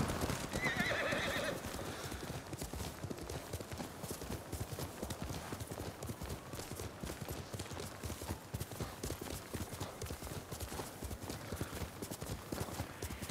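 A horse gallops in the video game Ghost of Tsushima, with steady rapid hoofbeats throughout and a brief neigh near the start, fairly faint and heard alone.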